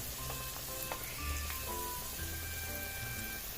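Onions sautéing in a pan until brown for a spaghetti with cream and mushroom sauce, a steady close sizzle with faint tonal background hum, no talking.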